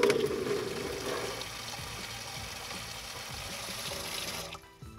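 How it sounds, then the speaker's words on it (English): Water streams steadily from the sprayer hose of a Delta Touch2O.xt bathroom faucet into a bucket, a soft continuous rush that fades out near the end. "Now this is where the water's gonna come out"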